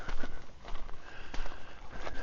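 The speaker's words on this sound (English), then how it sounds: "my dog gets a chance to sniff some different terrain" Dog sniffing along the ground at the Santa Clara River overlook on a desert trail, a run of quick, close nasal snuffs repeating in short bursts over faint outdoor background.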